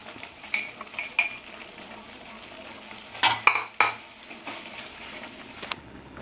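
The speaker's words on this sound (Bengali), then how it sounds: "আমি একটু নাড়াচাড়া করে ওপর থেকে নারিকেল কুড়ানোগুলো ছড়িয়ে দেবো" Spoon stirring Bengali-style chana dal cooked with brinjal in a pan, a few scraping clinks and soft sizzling spread across the clip, with a louder cluster of stirring strokes near the middle.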